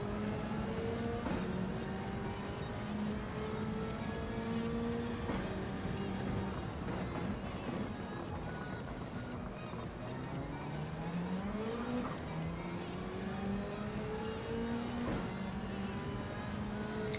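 A race car engine in the video game Gran Turismo holds steady, rising and falling through gear changes, with tires squealing through corners; continuous and moderately loud, with no talking.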